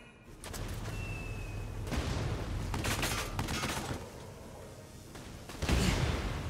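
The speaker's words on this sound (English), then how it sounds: "Why are we shooting millimeter bullets at them?" Gunfire in the Valkyria Chronicles 4 video game, scattered shots and bursts over a steady battlefield rumble, with a louder blast near the end.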